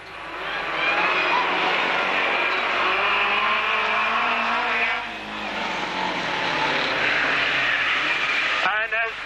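Racing vans at an auto club van race meeting roar past loudly with sustained engine noise that swells, dips briefly and builds again as the pack goes by, while a commentator talks over it.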